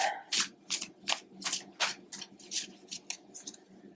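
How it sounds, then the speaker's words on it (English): Oracle cards being shuffled and pulled from a deck, a quick series of about a dozen crisp papery riffles and slides, close and fairly faint. "Take out one oracle card, and then I'll grab one from the bottom."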